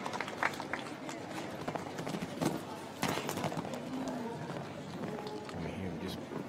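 A horse's hooves clip-clop and thud across the arena during a Nations Cup show jumping round in Sopot, faint and irregular beneath continuous commentary.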